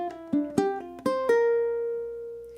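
Ukulele single-note picking from a flamenco song, bar 7: five plucked notes climb upward in pitch, bright and close, with the last note ringing out and slowly fading.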